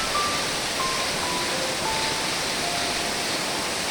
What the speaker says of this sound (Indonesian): Kita lihat itu dari atas, air terjunnya cukup tinggi.